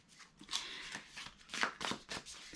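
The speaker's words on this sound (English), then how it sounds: "So I just like to take a moment to shuffle so that I can tune into the energy" Tarot cards are shuffled by hand in several quick soft riffling and sliding bursts, quiet and close, with no talking over them.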